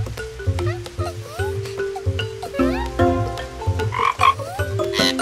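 A cartoon frog croaks loudly and close up in rapid, rhythmic bursts, with tonal musical sounds mixed in underneath. No one speaks.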